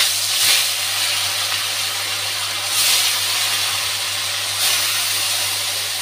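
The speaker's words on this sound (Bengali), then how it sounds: "তেলটা গরম হয়ে গেছে, মাছটা ভেজে নিচ্ছি।" Fish fries in hot oil with a continuous loud sizzling hiss that swells and eases in slow waves over a low steady hum.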